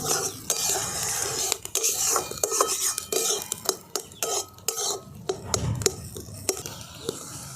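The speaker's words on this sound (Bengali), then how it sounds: "এরকমভাবে এটাকে আমি নাড়াচাড়া করে নিচ্ছি।" A spoon stirs grated carrot paste in a pan while it dries for carrot sandesh: steady, close scraping and clinking against the metal, in an uneven rhythm, with a faint sizzle and no talking.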